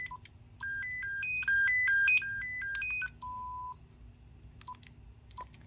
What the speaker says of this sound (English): Here's your ringer tones.